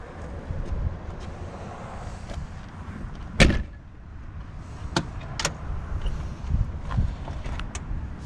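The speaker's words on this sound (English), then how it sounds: "Those doors open and close so well." A 1974 Jaguar XJ6L, very original and unrestored, has its doors opened and shut: several solid clunks and latch clicks, one heavy thump followed by lighter knocks, over a soft background hiss with no voices.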